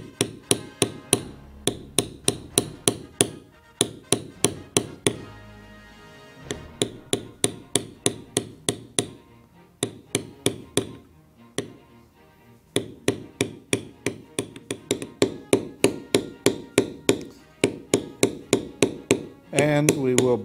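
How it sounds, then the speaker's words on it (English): Mallet striking a large beveler while stamping leather for a circle basket design, sharp regular taps in quick steady runs, close and loud, with a brief pause midway and no talk. "Next, we will use a large beveler and we will bevel on the inside of this outside line."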